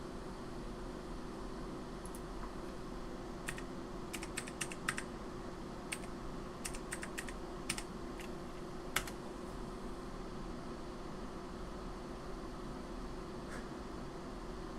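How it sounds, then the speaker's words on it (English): Typing on a computer keyboard: scattered clusters of sharp key clicks and a few single taps, close and moderately loud over a steady fan-like background hum, with no talk. "But I'm gonna type."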